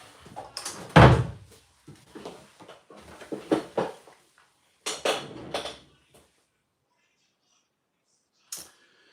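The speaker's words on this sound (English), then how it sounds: "Let's shut this door." An interior door pushed shut at the start, a sharp thud with a rattle of the latch, followed by scattered household knocks and clinks as dishes or cutlery are handled nearby, then quiet.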